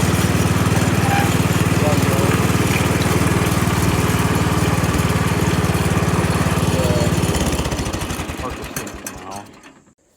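A lawn mower runs steadily and loud with its newly fitted deck wheels spinning, a constant low engine drone that drops away and winds down over the last few seconds.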